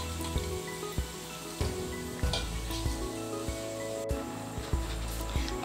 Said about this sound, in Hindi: तब तक हम इसको ऐसे भूनते रहेंगे।